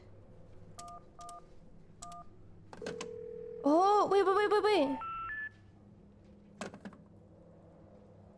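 Telephone keypad tones in the video game She Could Fly, with several short beeps, a sustained tone and then a warbling electronic signal, followed by one more beep. A voice speaks briefly.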